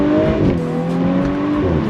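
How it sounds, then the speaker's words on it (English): An Audi S4 B9 accelerating at full throttle: a loud, steady engine roar with rising harmonic tones, heard from inside the car and sustained throughout. "I'm gonna go full throttle."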